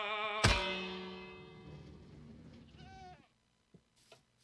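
A sheep in the Minecraft video game lets out one loud, drawn-out bleat, followed by a shorter quieter bleat and a few soft thuds after it fades.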